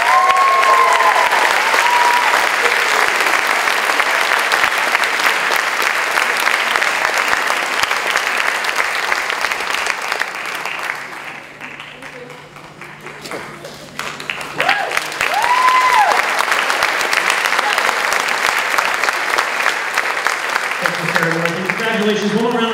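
A large crowd at a school district opening day event claps steadily and loudly, dipping briefly midway before surging again, while a speaker talks over the start, the middle lull and the close.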